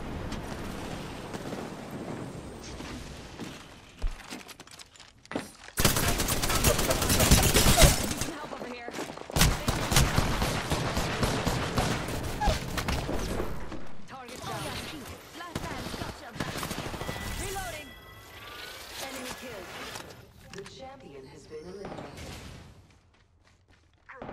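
Gunfire in the battle royale game Apex Legends bursts out in loud, dense automatic volleys through the middle, with scattered shots before and after, while a player calls out over the action.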